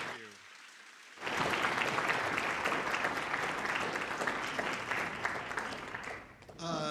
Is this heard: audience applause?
yes